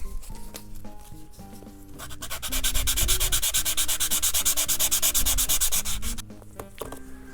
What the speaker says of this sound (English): I'm going to go ahead and sand both sides and try to get this to fit